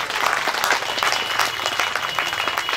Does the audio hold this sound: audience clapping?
yes